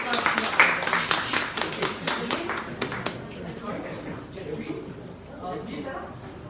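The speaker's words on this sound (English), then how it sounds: "let's give all of them a round of applause" Seminar attendees clap in a short, scattered round that is strongest at first and fades after a few seconds, with people talking underneath and afterward.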